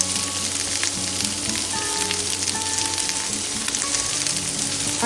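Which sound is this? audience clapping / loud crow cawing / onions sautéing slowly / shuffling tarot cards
onions sautéing slowly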